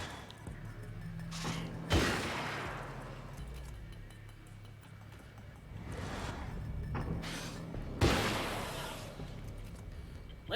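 Gunfire in Alan Wake's American Nightmare, two sharp, loud shots spaced several seconds apart with ringing tails over a low game soundscape and occasional clinks.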